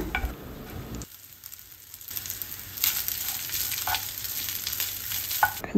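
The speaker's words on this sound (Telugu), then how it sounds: "అది వేయించిన తర్వాత దాంట్లో రైస్ వేసేస్తున్నాను" Rice stirred and frying in hot oil with garlic cloves and red chili, a steady close sizzle with scraping stir sounds, quieter at first then building to a fuller crackle.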